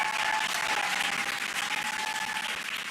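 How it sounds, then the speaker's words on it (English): A crowd gathered to watch the Dragon Freedom capsule splash down cheers and applauds in a dense, continuous roar that holds loud and steady throughout. "You can hear the crowd here."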